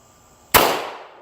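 A single loud, sharp pistol shot fired at a target on a range, with a quick crack that trails off into a short fading echo after a quiet lead-in.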